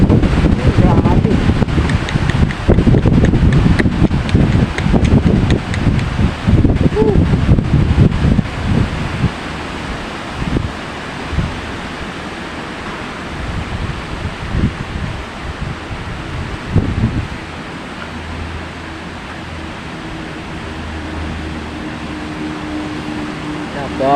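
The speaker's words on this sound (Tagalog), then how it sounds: "Pabugso-bugso, pakalma-kalma sa mga kabords. Minsan bibira na naman yung hangin." Strong typhoon wind roars in loud gusts through rustling leaves, then eases to a calmer whoosh with occasional bursts; a voice speaks at times.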